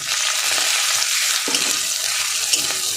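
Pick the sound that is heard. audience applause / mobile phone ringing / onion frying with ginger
onion frying with ginger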